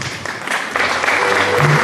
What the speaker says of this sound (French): Merci pour l'applaudissement